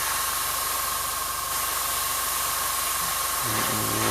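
Spray paint hisses from a can onto a Blood Angels drop pod model, a continuous close steady hiss that runs unbroken with a faint tonal whine underneath.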